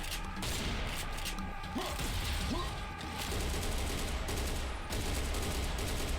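Assault rifle gunfire in Serious Sam Fusion, rapid sustained bursts of loud shots with mechanical clatter and distant booms, dense and continuous throughout.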